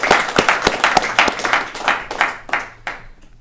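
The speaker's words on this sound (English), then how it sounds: "Could we please give them a big round of applause?" An audience at a golf banquet gives a brief burst of applause, with dense, close clapping that tapers off over a few seconds.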